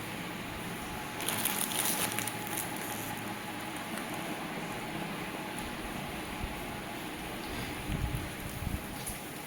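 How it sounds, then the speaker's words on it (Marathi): Rain falls steadily outside a village house, a soft continuous patter with occasional slightly louder bursts of drops, heard from indoors at a moderate distance. "सुंदर पाऊस पडतोय, छानसा असा मस्त बाहेर."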